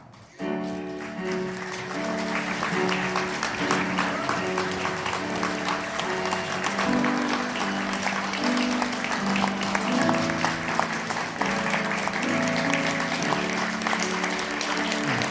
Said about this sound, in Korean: 오늘 눈부시게 아름다운 신부의 입장을 축복의 박수로 맞아주시기 바랍니다.